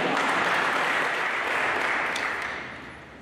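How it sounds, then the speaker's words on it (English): Dense round of applause from a crowd gathered at a memorial ride, loud and steady before thinning out toward the end. "the hugest, proudest moment at round of applause actually needs to go to Ancha for getting on her bike this morning"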